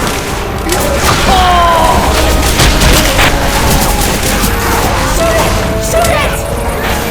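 Dense gunfire and booming blasts aimed at a tank in the Left 4 Dead 2 game, sustained and loud throughout, with voices speaking over the chaos.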